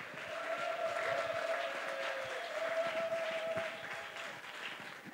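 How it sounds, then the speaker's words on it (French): Steady crowd applause and acclamation in a church congregation at a New Year service, continuous clapping with a sustained tone running beneath. "Avec des cris de joie."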